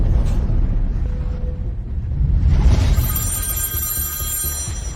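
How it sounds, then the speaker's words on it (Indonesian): A telephone starts ringing partway through, a steady electronic ring with sustained bright tones over a low background rumble, with no talk. "Telepon."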